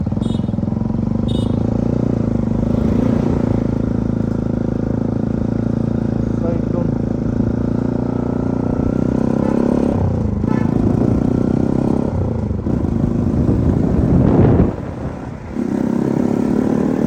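Motorcycles pass on a rough road, with a steady, loud engine drone and rumble throughout and some clatter. Engine note surges and shifts near the end as vehicles go by close.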